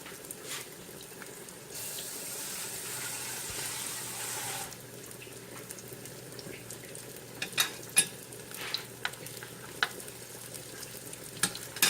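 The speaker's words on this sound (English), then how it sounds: "So I'm going to go ahead and fry these." Tofu frying in a pan, heard as a steady close sizzle for the first few seconds, then quieter frying broken by sharp clicks and taps of a utensil.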